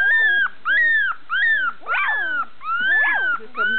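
Several puppies whimper and yip in a steady run of rising-and-falling high-pitched cries, close and clear, with short pauses between calls and no talking.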